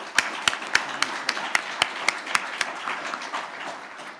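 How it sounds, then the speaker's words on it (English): Scattered applause from a modest audience at a startup entrepreneurship panel, individual claps standing out as sharp, fairly close snaps over a softer bed that tapers off toward the end. "So one last round of applause for our amazing panelists."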